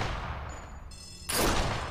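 A single sharp gunshot in the VR shooter Sniper Elite VR, a loud, sudden crack near the end after a quiet moment with a faint high tone.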